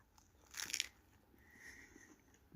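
Teeth crunch once into a Wendy's Cajun spicy chicken sandwich topped with crispy onions, a short, close, crisp bite in a quiet room, followed by faint chewing.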